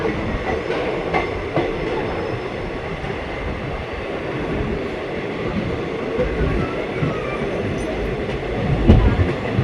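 The 16205 Talguppa Mysuru intercity express runs along the line, its steady rolling rumble and rattle of carriages continuous and close, swelling slightly near the end.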